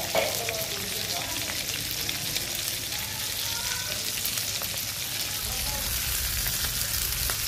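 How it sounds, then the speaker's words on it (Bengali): Rohu fish pieces fry in oil with a steady, dense sizzle and crackle, close up and fairly loud, with occasional stirring and no voices. "এরপর মাছগুলো ভেজে নিব"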